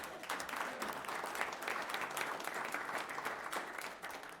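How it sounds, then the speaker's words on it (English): A room at a town select board meeting breaks into steady clapping for former bass players, a fairly faint, even patter of many hands that holds for several seconds. "let's clap for them anyhow"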